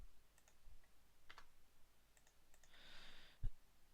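Soft keystrokes on a computer keyboard as a login and password are entered: scattered quiet clicks, a brief hissy rustle, then a firmer keypress in a quiet room.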